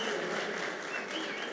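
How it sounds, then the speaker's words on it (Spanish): Audience applause at a SENA presentation during a Campus Party tech event, a steady, dense wash of clapping that fills the whole short stretch at an even level without any pauses. "aplauso por Luis"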